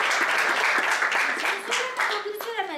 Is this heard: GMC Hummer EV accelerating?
no